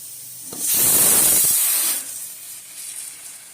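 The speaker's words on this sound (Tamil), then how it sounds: "இது பாருங்கள் நல்லா தண்ணி கொதிக்குது" A loud rush of hissing steam bursts for about a second, then settles into a softer, steady hiss of boiling water steaming homemade sausages.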